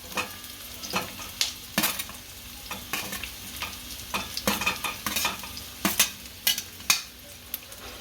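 Carrots and other vegetables being stir-fried for veg hakka noodles, with a constant hot sizzle and repeated sharp metal spatula scrapes and clanks against the pan in an uneven rhythm, close and fairly loud, no talking.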